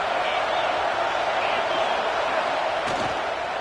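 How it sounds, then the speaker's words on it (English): A packed stadium crowd at a college football game roars in a steady, loud, continuous wash of cheering, with a brief thump near the end. "This crowd bringing the energy and noise early."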